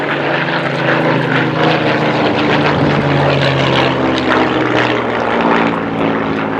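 Hawker Hurricane propeller aircraft flying low at an air show, a loud, steady, droning engine roar that fills the whole stretch.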